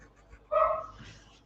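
A dog barks indoors, a single fairly near bark rising sharply and fading over about a second, with no voices.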